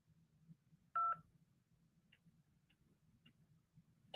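A single telephone keypad dialing tone sounds briefly and clearly near the start, followed by a few faint ticks over a low steady hum.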